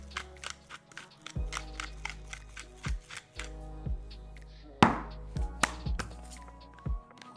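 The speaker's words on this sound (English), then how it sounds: "Half teaspoon of black pepper. Gonna grind it up." Black pepper ground in a hand mill over a meatball mixture, a close series of crisp crunching, crackling bursts in short uneven twists with brief pauses between.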